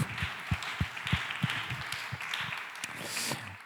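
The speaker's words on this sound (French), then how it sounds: "On peut applaudir Alex Jumelin qui nous abandonne." Audience at a public talk on preparing elite athletes gives scattered, fairly faint applause with distinct individual claps, somewhat distant in a hall.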